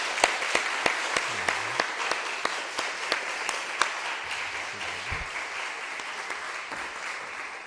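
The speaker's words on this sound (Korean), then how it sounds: "박수로 모시겠습니다." At a Sunday afternoon church service, a few sharp, evenly spaced claps grow into warm congregation applause welcoming a pastor, settling into a steady patter with faint voices underneath.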